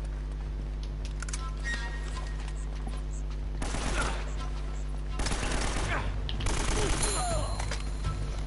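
Gunfire in the Uncharted: Drake's Fortune video game, with pistol shots mixed into bursts and a dense fusillade in the second half over constant game background noise, no talking.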